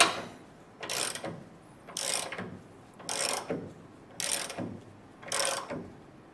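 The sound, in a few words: ratchet tightening ball joint nuts on '57 Bel Air suspension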